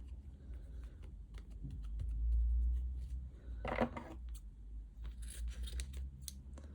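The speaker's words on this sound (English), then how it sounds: "I'll cut it off at the end actually, it's easier." Scissors snipping through paper or tape during a colouring craft project, a run of quick, close, crisp cuts followed by a few softer snips, with no talking.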